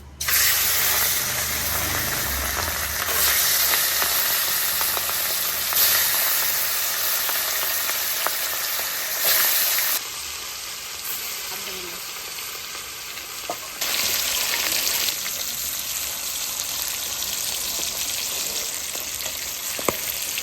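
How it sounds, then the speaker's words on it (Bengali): Large fresh pond fish fry in plenty of oil, giving a steady, close hissing sizzle that shifts in intensity as the pieces settle, with no voices heard. "বড় বড় মাছ, পুকুরের টাটকা মাছ ভাজা শুরু করে দিলাম"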